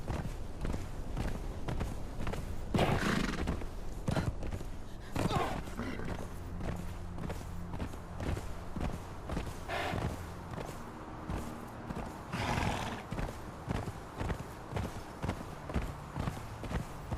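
Horse hooves clip-clopping steadily across the ground in Conan Exiles, a run of rhythmic footfalls with game ambience and low musical tones, no clear neigh standing out.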